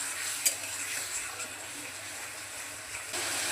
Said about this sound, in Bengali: এখন মশলাটাকে ভালোভাবে কষিয়ে নেব।